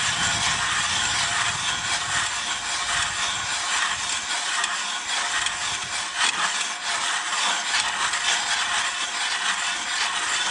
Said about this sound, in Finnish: tää on eka kerran, kun mä poraan